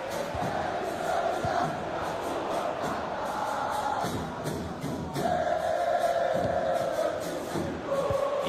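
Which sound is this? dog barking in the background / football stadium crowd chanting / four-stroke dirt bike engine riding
football stadium crowd chanting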